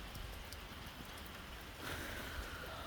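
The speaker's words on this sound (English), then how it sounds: "the rain's here, as you can see" Steady, faint rain falls outdoors, a soft continuous hiss of drops on surfaces with a slight swell in intensity near the end; no talking.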